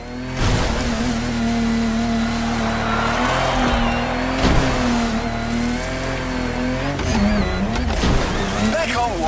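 Game Land Rover Defender engine droning steadily as it bounces over rocky off-road terrain, with loud, continuous revving and sharp thumps from rough jolts of the suspension, under talk.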